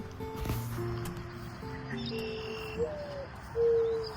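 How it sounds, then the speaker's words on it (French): A dove coos softly in a few low, drawn-out hoots near the end, over quiet outdoor ambience with faint birdsong. "puis là, il fait roucouler"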